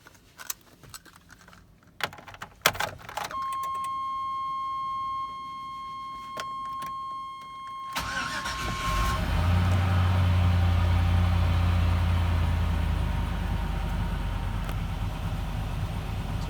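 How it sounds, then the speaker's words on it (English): An OBS truck with an LS engine swap cranks over with a chime and key clicks, catches, and settles into a loud, steady, rumbling idle up close. "so let's fire this thing up"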